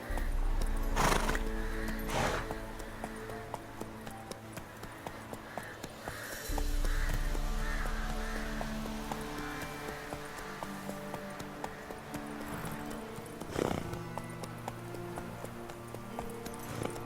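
Horse in The Witcher 3 video game neighing loudly a few times over steady clip-clop hoofbeats at a gallop, with in-game music underneath and no talk.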